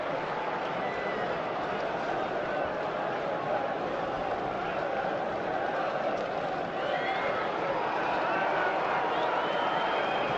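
Jittery Newcastle supporters at a football stadium make a steady, dense crowd roar throughout, a continuous murmur of thousands that swells slightly near the end, with no clear chants or distinct claps.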